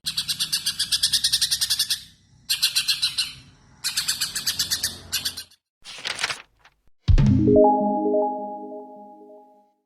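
A greater green leafbird (cucak ijo) sings close and loud in several bursts of rapid, bright chirping, with brief pauses between them, then ends on a few lower, sustained tonal notes.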